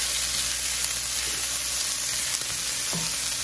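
Vegetables for spicy chili with beans sizzle steadily in a pan, a dense close hiss that holds at an even level throughout, with a couple of faint knocks near the end.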